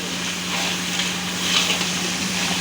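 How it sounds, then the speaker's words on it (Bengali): Chicken for kasha sautés with desi ghee in a pan, giving a steady, moderately loud, even sizzle and hiss with a faint low hum beneath and no speech. "এবার দেশি ঘি, নিয়ে এবার সব আবার একসাথে মিক্স করতে হবে"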